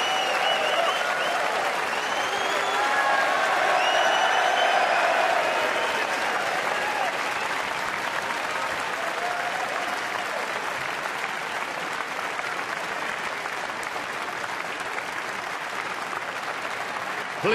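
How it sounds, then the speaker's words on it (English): Sustained applause from a packed crowd at Alexandra Palace for the 2015 Masters snooker, a dense, even roar of clapping that fills the whole stretch and eases slightly toward the end. "this packed crowd are ready to roar for two world-class players"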